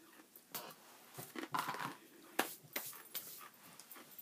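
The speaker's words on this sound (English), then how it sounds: "It almost has a crunch of a chip." Crunching on a whole grain, non-GMO barbecue snack chip from a 6-ounce bag, a series of sharp, close bites and chews spread through the clip with crinkly rustling between them.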